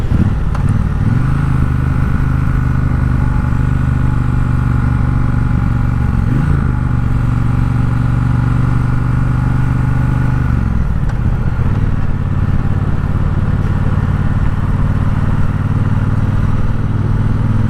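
A 2020 Triumph Bobber Black motorcycle rides steadily around town, its engine droning loud and close with a continuous rumble and slight shifts in tone around the sixth and eleventh seconds.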